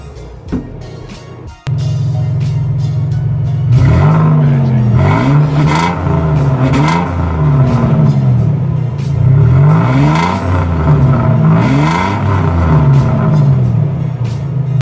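A car engine is started with a key and cranks to life near a faint click, then settles into a loud, steady idle with a cyclic whir close by, with no talking.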